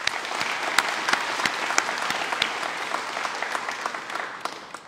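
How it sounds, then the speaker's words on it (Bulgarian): Crowd applause at a GERB political party rally, dense sustained clapping with sharp individual claps standing out, loud and continuous before easing slightly at the end. "за което аплодисменти за вас."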